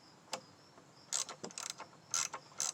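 A ratchet clicks in short irregular bursts while tightening a nut back onto a car engine during a misfire repair, faint and close, with no voices.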